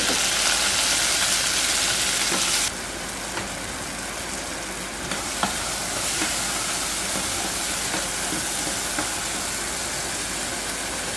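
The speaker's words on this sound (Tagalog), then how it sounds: "Ayan guys, pwede na itong ilagay yung kamatis. Igisa ko lang muna." Tomatoes sizzle in a pan with golden-brown garlic, a steady loud hiss that drops slightly partway through and carries on with faint clicks and no talk.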